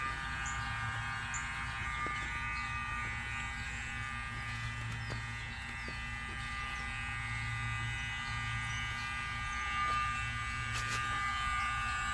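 An ELIL electric camp shower kit pump runs steadily, a low constant motor hum and buzz pushing water through a hose, with faint birdsong in the background.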